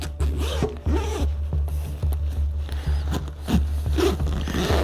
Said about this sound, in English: it's getting a little bit smoother going over these corners with these zippers